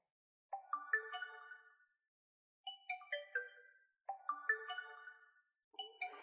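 The pop-up front camera of a Xiaomi Mi 9T smartphone plays its clear, bright electronic chime, a rising tinkling melody repeated several times with short silent gaps between, heard alone and close.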